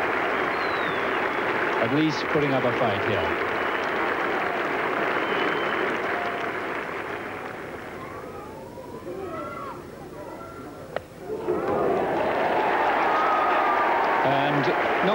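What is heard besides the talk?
Yorkshire cricket crowd cheering and applauding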